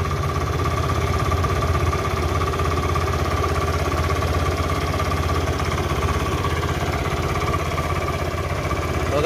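A Honda Vario 110 motorcycle engine runs steadily at idle, running on battery voltage alone with a weak stator, a close, continuous mid-pitched hum with no speech over it.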